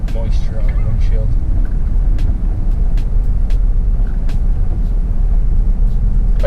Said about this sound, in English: My truck's just idling at this speed. Just sitting there, just idling along at like 70 or 750 RPM.